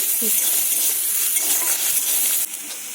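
Onion and green chili fry in a pan with a constant loud, hissing sizzle, steady for three seconds with a brief scrape of stirring near the start.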